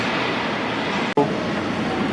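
Steady rumble of model trains running in a train station display at Cincinnati Union Terminal, with a brief dip and click partway through, no talking.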